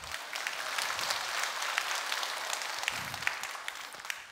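A church congregation applauds after a hymn-like song during a Sunday service, producing bright, crisp clapping that holds at a steady, fairly close level throughout, with individual sharp claps poking out of the dense patter.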